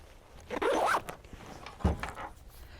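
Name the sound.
zipping up a backpack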